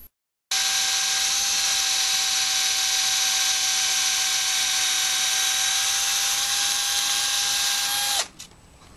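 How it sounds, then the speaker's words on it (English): A power drill whines at a steady high pitch for about eight seconds, loud and close, drilling a hole in a panel, then winds down and stops. "we'll drill a hole for the switch and LED"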